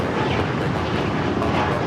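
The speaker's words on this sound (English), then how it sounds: "662, operated by Porter Airlines Canada, taking off to Toronto on the E195 E2" A Porter Airlines Embraer E195-E2 takes off from Los Angeles LAX, bound for Toronto. A dense, even jet roar fills the short stretch without a break.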